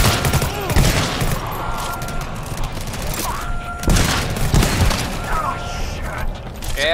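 Rapid gunfire bursts and booms in the co-op shooter game GTFO, loud and continuous with sharp cracks, while players talk over the shooting.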